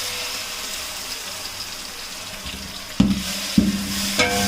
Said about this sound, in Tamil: இஞ்சி பூண்டு பேஸ்ட் போட்டு நல்ல ஹை ஃப்ளேம்ல வச்சு